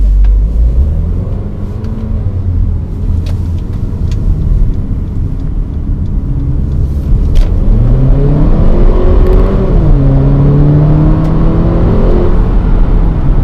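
A 2018 Infiniti QX30 Sport with a 2-liter turbocharged four-cylinder pulls away from a green light, engine rising steadily through the gears with a shift partway through, loud and continuous from inside the cabin.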